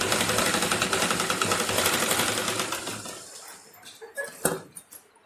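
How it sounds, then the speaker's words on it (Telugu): A sewing machine stitches lace onto a hand-design garment, a fast rapid-fire mechanical chatter that runs loud and close for about three seconds, then stops, leaving a few clicks and light handling knocks. "చూడండి, ఇలా నీట్గా కుట్టేసుకోండి."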